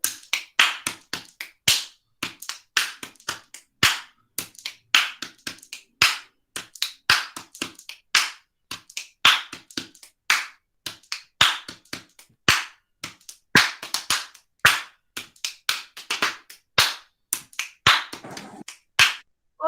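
Fast, rhythmic body percussion of snaps, handclaps and chest slaps repeats in a tight, steady pattern, crisp and close, with no talking over it.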